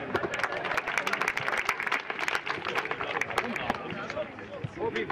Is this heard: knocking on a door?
no